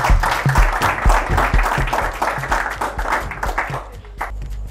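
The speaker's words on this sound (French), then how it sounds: "Les amis, on commence par applaudir très très fort." A crowd at a televised football show applauds loudly, a dense sustained wash of clapping that eases off slightly toward the end.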